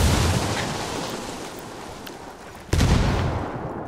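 A grenade detonates in Ghost Recon Wildlands: a sudden loud, deep blast near the end, after a stretch of broadband rumble and noise.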